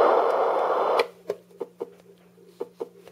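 A white noise machine switches from a second of steady hiss to its heartbeat setting, giving soft, muffled thumps that come in uneven doubled beats, quiet and close.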